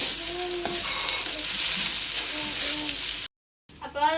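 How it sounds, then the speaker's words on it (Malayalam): Chopped onion, black pepper and coriander powder sizzle in a hot pan while being stirred, a steady close frying hiss with scraping strokes, then a brief silence before the sizzling resumes. "സബോളയും കുരുമുളകും മല്ലിപ്പൊടിയൊക്കെ ഇട്ടിട്ട് നന്നായിട്ട് ഇളക്കുക."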